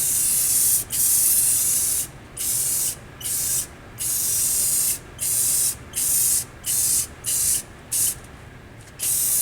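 Spray can laying a thin coat of paint on the side panels of a Burger Time arcade cabinet, a close hissing burst followed by a run of short, regular spray pulses with brief gaps between them.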